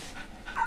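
A small dog, one of two rescued dogs, pants softly and gives a brief high whimper near the end, faint and close.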